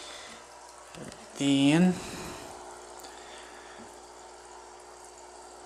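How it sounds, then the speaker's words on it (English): Baby brine shrimp being suctioned out of aquarium water: a single brief, wet gurgling slurp of a little under a second, close by, with a brief spoken word just before it. "I'm gonna go ahead and suction all that baby brine shrimp"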